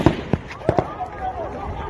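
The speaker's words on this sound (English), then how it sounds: "You can hear gunshots." Several sharp gunshots ring out at irregular intervals, a few in quick succession, with a busy outdoor protest background behind them in Abuja, Nigeria.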